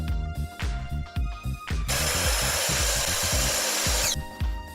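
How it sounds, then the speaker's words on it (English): A power saw cuts through a wooden board in one loud, steady burst of about two seconds, with softer rhythmic knocks before and after. "Once you're done cutting your boards to an even length"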